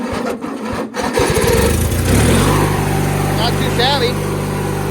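Cold start of a 1997 MTD Yard Machines riding lawn mower with its choke on: a few cranking turns, then the small engine catches and settles into a loud, steady, close idle, with a brief spoken remark over the cranking.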